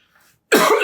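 A single sharp, loud cough bursts out suddenly after near silence.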